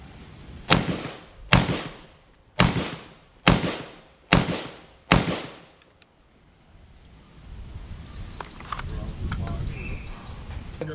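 A Hunt Group MHX 12 gauge shotgun fires at an outdoor range: six loud, sharp blasts spaced about a second apart, followed by wind noise and faint background voices.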